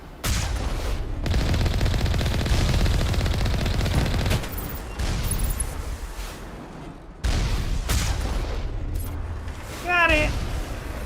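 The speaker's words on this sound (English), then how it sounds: "Yes, I see you lobbing rockets at me." Rockets and gunfire in Mass Effect 1 crash in loud bursts of rapid shots and heavy blasts, broken by short pauses, with speech heard partway through.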